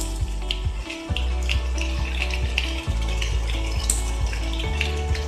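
Finely chopped onions drop into hot oil and fry with a busy, crackling sizzle, with stirring clatter of a utensil against the pan, close and steady.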